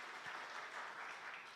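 A church congregation at a Sunday service in Batam claps in praise, a brief, steady, fairly faint patter of many hands with no voices over it.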